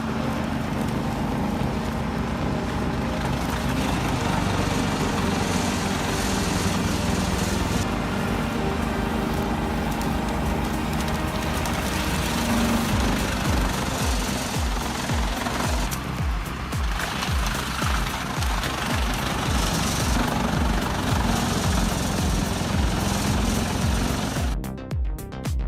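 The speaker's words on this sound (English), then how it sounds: "A chipper designed to set new standards pushes high output with clean ejection and disciplined performance." A high-output wood chipper runs at full power, a dense, steady mechanical roar with rapid rhythmic chopping pulses as material is fed through, loud and continuous throughout with no voices.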